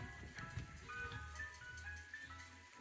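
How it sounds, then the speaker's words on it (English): A Frosty Freeze ice cream truck plays its tinkly jingle in the distance, a faint thin melody over a muffled, rumbling background. "apparently it's time for the Frosty Freeze truck to come"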